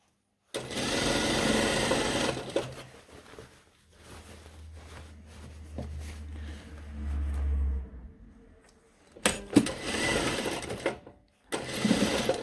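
An electric sewing machine stitches the side seam of a pair of trousers, running loud and close in several sustained bursts separated by brief pauses and handling noises.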